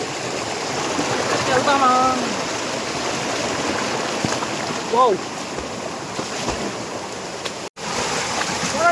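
Water rushes steadily from a nearby waterfall and stream, a loud, constant broadband roar filling the whole stretch, with people briefly talking and exclaiming over it.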